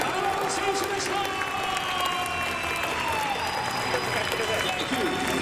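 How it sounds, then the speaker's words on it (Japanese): A baseball stadium crowd applauds a ceremonial first pitch thrown by judo gold medalist Aaron Wolf, a broad, continuous wash of clapping under an amplified voice speaking over the noise. "皆さん大きな拍手お願いします"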